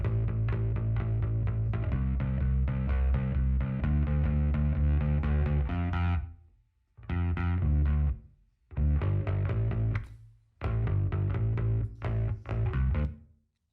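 Bass driven through Waves BB Tubes saturation plays short, thick, distorted phrases with gaps of silence between them, the tone full and heavy in the low end.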